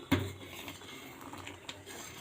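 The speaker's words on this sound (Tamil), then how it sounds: "இப்படி ஓரத்தில் இருக்கிறதெல்லாம் நல்லா அப்படி தள்ளி விட்டு கலக்கி விட்டுடலாம்." A spoon scraping and clinking inside a pot while sambar boiling with tamarind is stirred, one sharp knock at the start and then quiet scraping and a soft bubbling sizzle, faint and close.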